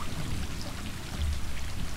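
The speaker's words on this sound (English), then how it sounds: "It's raining." Rain in the video game Stray pours down in a dense, constant hiss, loud and close, with a low rumbling undertone and no voices.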